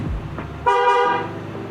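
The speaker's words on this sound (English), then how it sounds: "The second setting is the double honk" A Ford Bronco horn sounds as a lock signal, giving one short, loud, close car-horn blast lasting about half a second.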